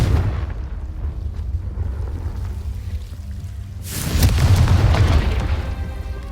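A Confringo fire spell bursting in the video game Hogwarts Legacy: a low rumbling bed, then a sudden loud blast that swells into a deep, rolling roar before easing off.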